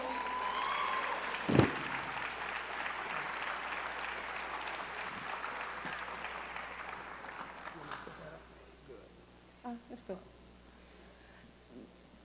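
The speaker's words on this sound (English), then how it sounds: "If you can bring her up with a round of applause." Audience applause at a high school commencement ceremony, broad clapping from a crowd that gradually thins and fades, with scattered last claps and faint voices toward the end.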